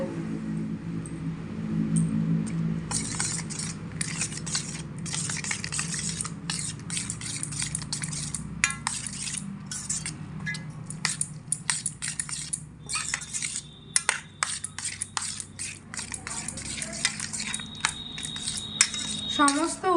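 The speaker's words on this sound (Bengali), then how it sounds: "ডিমের সঙ্গে খুব ভালো করে মিশিয়ে নেব" Eggs are beaten with flour, red chilli powder and cumin powder in a bowl. The utensil clinks and taps against the bowl in a quick, steady rhythm, with small wet splashes close by.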